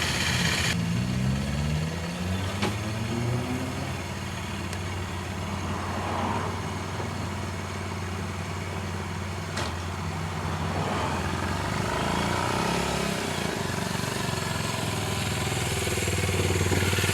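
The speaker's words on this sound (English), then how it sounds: "you can hear the idling's picked up now, and it's running nice and smoothly" A Sachs X Road 125 motorcycle engine idles smoothly and steadily up close, with a continuous even putter and a slight rise in engine note near the start.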